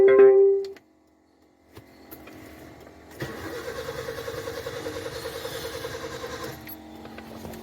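A petrol car that has just been refuelled cranks for about three seconds with a steady, rapid churning whir, then stops without firing up, preceded by a short noise and faint rumble.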